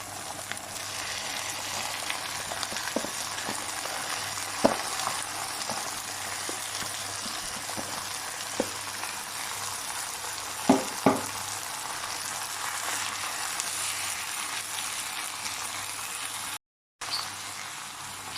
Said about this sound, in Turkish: Soğanı salçayı kavurdum. Şimdi fasulyesini ilave ediyorum.